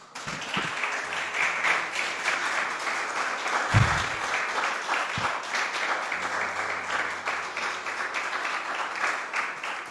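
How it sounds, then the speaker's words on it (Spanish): A church congregation applauds during a service, a steady, dense wash of clapping that carries through the whole stretch, with a few louder low thumps near the start and middle. "Dale un aplauso al Señor."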